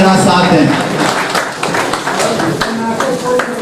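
Audience applause rings out as a professor is welcomed to the microphone at a poetry gathering, scattered claps spread across the hall, blended with talk and background sound at a fairly loud level.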